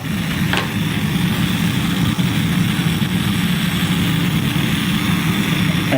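A new Coleman camp stove burner roars steadily on high flame, a continuous loud broadband rushing hiss with no talk.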